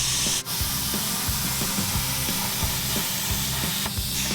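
A CNC plasma table cuts steel parts for a custom tube bumper, giving a continuous close hiss and roar with a sharp pop near the start and another near the end.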